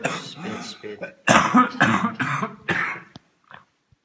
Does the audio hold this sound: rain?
no